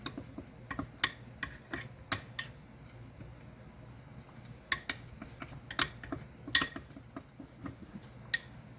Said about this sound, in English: I'm going to stir that a little bit